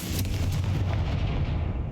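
Confringo fire spell bursting in Hogwarts Legacy, a deep sustained explosive rumble filling the moment, loud and close with no talk.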